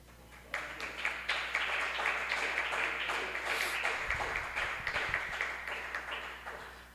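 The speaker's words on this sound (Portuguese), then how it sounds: "Você pode aplaudir o Senhor?" Church congregation applauding together in a sanctuary, a steady sustained wash of clapping that holds at even loudness for several seconds with no voices over it.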